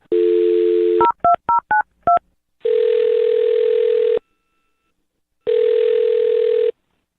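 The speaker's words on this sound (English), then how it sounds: "I'll dial his phone number right now" A steady dial tone, then a quick run of six distinct keypad tones as a number is punched in, followed by two long ringback tones separated by silence.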